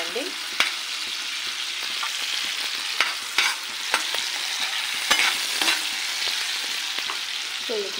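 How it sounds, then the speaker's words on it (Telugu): Tomato frying in a pan of groundnut oil, prepared for Telangana style fish fry. A steady, close sizzle continues throughout, broken by a few sharp spatters and clicks from stirring. "సో ఇక్కడైతే మన టమాటా ఫ్రై అవుతుంది చూడండి."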